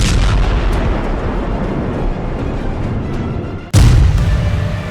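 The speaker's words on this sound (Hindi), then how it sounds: "जब हिजबुल्लाह के ठिकानों पर इजराइल का बम गिरता है तो धमाका बड़ा होता है" A loud, sharp bomb blast from an Israeli strike on Hezbollah positions cuts in near the end and rumbles as it fades, following a stretch of steady low rumble and noise.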